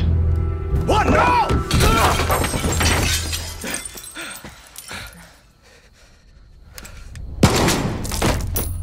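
A single sharp gunshot bursts out near the end of a busy stretch of Far Cry 6 combat, loud and close after a quieter lull, with chaotic game noise and sounds like breaking glass and a whimpering dog before it.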